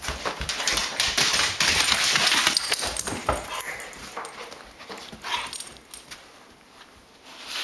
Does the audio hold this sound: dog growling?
yes